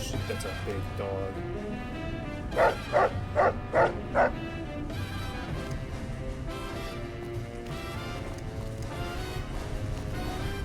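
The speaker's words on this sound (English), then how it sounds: "Holy shit, that's a big dog." A big dog in the video game Fallout: New Vegas barks four times in a quick, loud series over steady game ambience and a low droning background.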